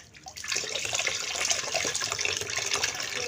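Water being poured over a person, a steady, close splashing pour that starts after a brief pause and keeps running, moderately loud.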